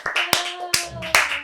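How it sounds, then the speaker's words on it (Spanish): A few people clap hands in a short burst, with three or four sharp, separate claps close by and a steady tone lingering underneath. "hemos acabado, aplaudir"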